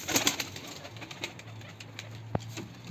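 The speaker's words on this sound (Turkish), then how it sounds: "kaçak yakaladığım güvercin." A caught stray pigeon cooing close by, soft low rolling coos with a faint rustle of feathers over quiet background hum.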